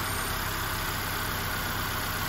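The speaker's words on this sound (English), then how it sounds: "So I'm racing it up to 25 RPM." A car engine runs steadily while a Konnwei KW208 battery tester is used, raised to higher revs, a constant loud hum without pauses or talking.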